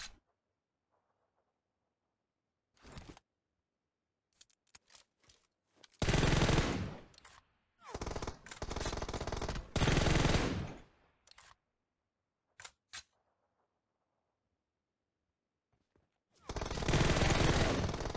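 Gunfire in the mobile battle royale game PUBG Mobile: sharp isolated shots and several dense automatic bursts separated by near silence, loud and close, with no talk over them.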